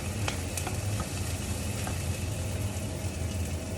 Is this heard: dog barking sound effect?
no